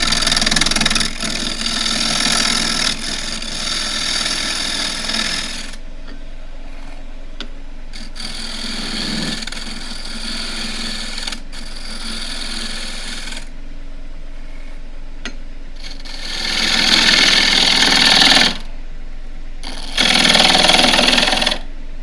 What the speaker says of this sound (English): The 1/2 inch spindle gouge again.